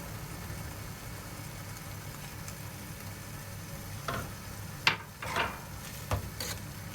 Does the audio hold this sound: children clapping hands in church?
no